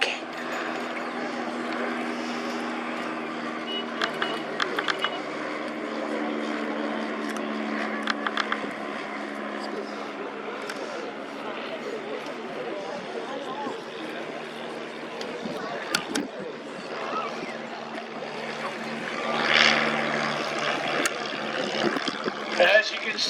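Several WWII-era L-bird light liaison aircraft with small four-cylinder air-cooled flat engines pass by slowly at an outdoor airshow event, a steady droning hum that swells toward the end, with crowd voices and wind underneath.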